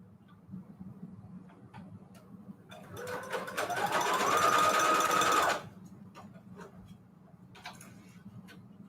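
A sewing machine stitches lace trim onto fabric in one steady burst of fast mechanical whirring lasting a few seconds, close and clear between quieter stretches of faint handling sounds.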